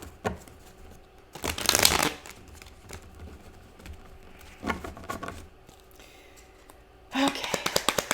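Tarot cards shuffled in bursts, with a long riffle near the start, a shorter one mid-way and a crisp flurry of taps and riffles at the end, all close and fairly loud against a quiet room.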